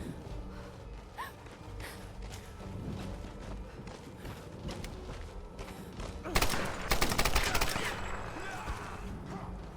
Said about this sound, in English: Where'd she get a fucking machine gun?